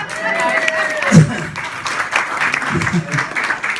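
Wedding guests clapping and cheering for the couple at the reception: a broad, steady burst of applause filling the room, with someone speaking over it.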